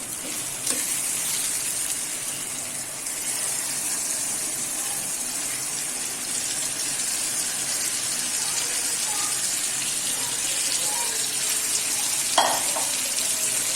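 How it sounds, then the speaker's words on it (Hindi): Soaked chana dal, two hours in water, is tipped into a hot pan for a bottle gourd lentil dish, giving a steady, fairly loud hiss and sizzle that runs throughout, with a brief clatter near the end. "अब मैं इसमें ये मेरी चने की दाल जो मैंने 2 घंटे से पानी में भिगोई हुई है, अब मैं इसको डालूँगी"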